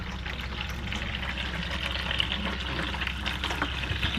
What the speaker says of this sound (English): that's hot water coming off there now